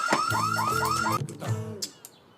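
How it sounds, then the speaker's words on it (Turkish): An electronic fire alarm in an apartment building wails in rapid, repeating rising sweeps, loud and insistent, then breaks off into a few scattered chirps before fading. "Yangın alarmı."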